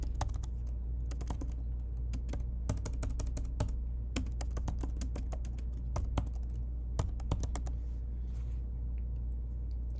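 Quick clusters of crisp keystrokes on a computer keyboard, close and clear, tapping out a new name for an image file over a low steady hum, with short pauses between bursts.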